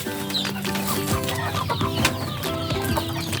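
Farm chickens cluck and call close by around the arrival of fresh feed, several overlapping throaty bursts and short clucks in a busy, continuous flock chorus.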